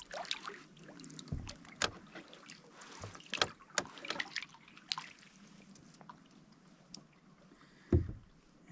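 A solo canoe is paddled up to a lakeside camp, with quiet paddle strokes, drips and water splashes close by, ending in a soft knock.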